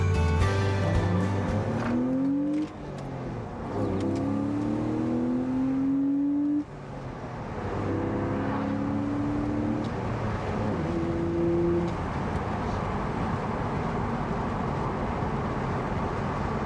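A BMW Z4 E85 engine pulls steadily while driving, rising through gears in smooth repeated climbs near 3,000 rpm, loud and continuous from the cabin with no talk.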